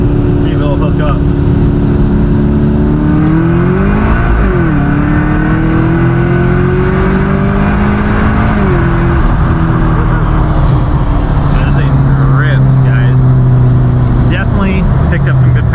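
Loud, sustained engine roar of an upgraded Subaru STI with a new cam accelerating hard, pitch climbing through several gear shifts with brief dips between, close and continuous, with a voice speaking over it.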